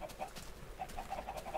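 Chickens clucking in Minecraft on an automated chicken farm, a handful of short soft clucks repeating in quick succession over a faint steady background.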